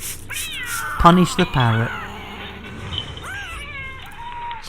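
Cats fighting in the background, with loud meows and drawn-out caterwauling yowls that rise and fall, answered by more wailing cries as people talk over them.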